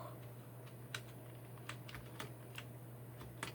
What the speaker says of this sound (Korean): 스페이스바 누르는 소리 보세요